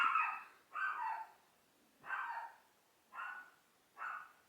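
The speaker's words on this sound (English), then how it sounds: "Dior must be barking because somebody is at the door for Sunny." A dog barks five times in a steady rhythm, slightly distant and muffled, with quiet gaps between each bark.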